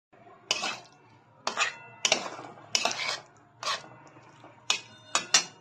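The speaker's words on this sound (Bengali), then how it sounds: "এরপর আমি এখানে কিছুটা আলু দিয়ে দেবো আলুগুলো আমি আগে সেদ্ধ করে রেখেছিলাম" Boiled potatoes dropped into a simmering curry in a cooking pan, a series of separate clattering knocks and scrapes against the metal, spaced irregularly, close and moderately loud with no talk.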